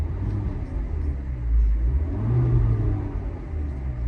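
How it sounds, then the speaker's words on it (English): A 2009 Mini Cooper engine rumbles low and steady from inside the car, rising briefly in a modest rev before settling back, with no one talking. "So you can see revving the car"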